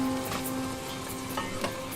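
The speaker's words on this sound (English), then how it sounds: "We're going to fry this off for a minute" Chilli, turmeric, salt and curry powders sizzle steadily in a pan for a vegetable curry, with faint stirring scrapes over a constant close frying hiss.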